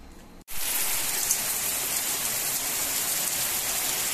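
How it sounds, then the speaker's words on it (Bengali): Heavy rain pours down in a dense, steady roar that starts suddenly after a brief quiet moment and continues evenly throughout, loud and close with no voices. "দেখো বন্ধুরা কত বৃষ্টি হচ্ছে আজকে"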